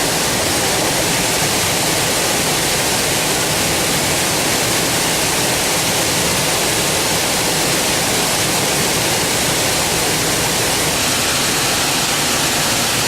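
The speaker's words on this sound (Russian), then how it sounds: "Успокаивающий звук падающей воды, под которым можно медитировать." Steady, dense roar of falling water, loud and continuous throughout, like standing close to a waterfall; no voices.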